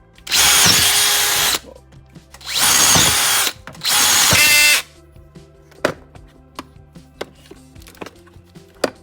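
A DeWALT drill bit driven by a power drill in second gear: three loud, even bursts of high whirring, each about a second long with short gaps between, followed by scattered clicks and light knocks of handling the tool.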